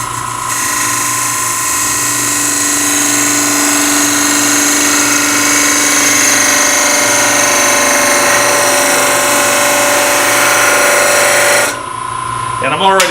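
A wood lathe turns as a parting tool cores a segmented walnut burl ring, giving a loud, steady whine with tonal hum and scraping cut noise for about twelve seconds, then a brief drop and change as the cut breaks through.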